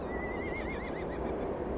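A horse in Octopath Traveler 2 lets out a clear, wavering whinny that rises and trembles for about a second over a steady game background, with no talking.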